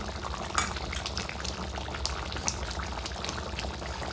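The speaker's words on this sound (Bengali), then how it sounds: "আচ্ছা এইটা মানে কতক্ষণ ফোটাতে হবে?" Chicken and potato curry simmers in a pot, a continuous close bubbling with small pops and splutters at a moderate, steady level. No voices are heard.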